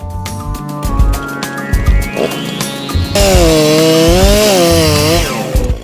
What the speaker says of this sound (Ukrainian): Пилка запускається.